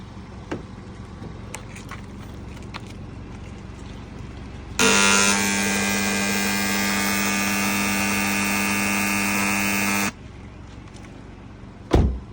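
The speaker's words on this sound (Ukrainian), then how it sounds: "Тепер запускаємо наш озонатор." An ozone generator switched on inside a car during an interior detailing treatment gives off a loud, steady electrical hum with strong tonal harmonics. It starts abruptly and runs for about five seconds before cutting off, with quiet room tone before and after.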